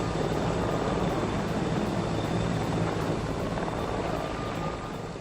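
A helicopter lands on a hospital helipad with a loud, steady rotor and engine roar that fills the whole stretch and eases off slightly toward the end.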